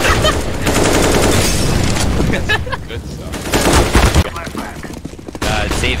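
Rapid automatic gunfire from a first-person shooter video game, loud and nearly continuous bursts that fill the whole stretch with brief gaps, while players talk over it.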